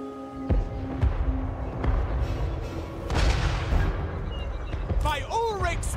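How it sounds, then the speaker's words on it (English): Deep booming cannon blasts in Total War: Warhammer III, during a castle siege battle, with heavy low rumble and crackling debris, mixed with game sound effects and a whistling tone near the end. "Great cannon!"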